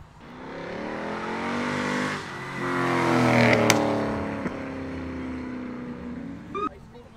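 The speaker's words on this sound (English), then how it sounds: "God, that turbo flutter. That boy is not stock" A turbocharged, heavily modified Corvette go-kart revs up and eases off nearby, its engine tone climbing and falling, with a sharp turbo flutter burst in the middle and a brief chirp near the end.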